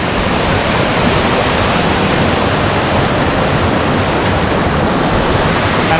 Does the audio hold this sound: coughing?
no